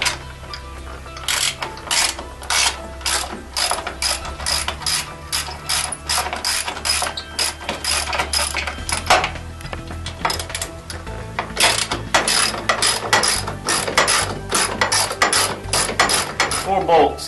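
A hand ratchet wrench clicks in rapid, uneven bursts up close while loosening mounting bolts behind a lean-back seat on a golf cart, its pawl ticking steadily throughout.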